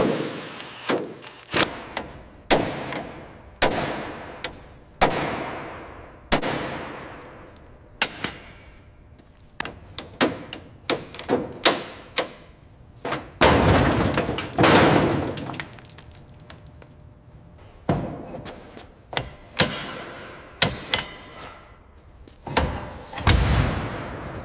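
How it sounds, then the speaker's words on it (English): A big wrench repeatedly strikes a seized, rusty part on an old abandoned M4 high-speed tractor, giving loud, sharp metallic bangs in irregular bursts, some in quick runs, over about twenty-four seconds. "This one here is completely seized. Hit it with the big wrench."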